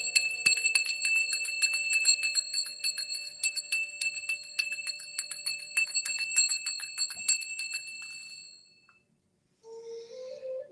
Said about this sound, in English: So I'm going to ring my Oshun bell